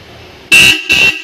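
A tractor horn, one of a pair, is demonstrated at an accessories shop, blaring in two loud bursts after a moment of low background hum, with a third blast just starting at the end.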